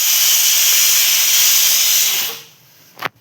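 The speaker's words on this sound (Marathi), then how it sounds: "आता कलर बदलेपर्यंत आपण त्याला भाजून घेऊया." Semolina roasting in hot ghee gives a loud, steady close-up hiss for about two seconds before it cuts out, followed by a quiet pause and a single sharp knock near the end.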